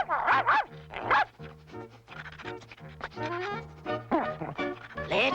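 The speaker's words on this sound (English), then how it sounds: "Puppy's picked up a scent!" A cartoon puppy from The Smurfs barks in a steady string of short, close yaps, with quick sniffs and whimpery yips between the barks.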